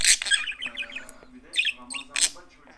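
A pet bird chirps and twitters in quick bursts close by, with short pauses between phrases and a faint voice in the background.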